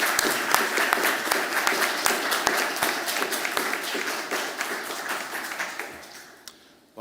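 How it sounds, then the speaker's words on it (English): An audience applauds the speakers and chair at the close of a conference event on law and a just climate transition, brisk clapping from many hands that fades away over the last second. "please join me in a round of applause for our wonderful speakers and our wonderful chair"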